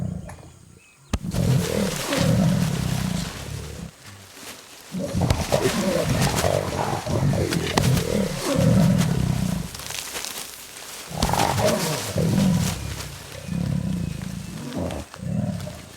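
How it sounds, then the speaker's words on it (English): Jaguars during rough courtship in the Brazilian wetlands: a male and female trade repeated harsh, close roars and snarling growls in bursts, loud and sustained with brief pauses between outbursts. "Jaguar courtship is a rough affair."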